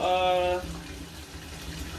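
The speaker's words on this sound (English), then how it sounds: "we're going to start filling it with cold water" Cold water from a tap runs into a kitchen sink, a steady close hiss and splash under a voice at the start that continues alone.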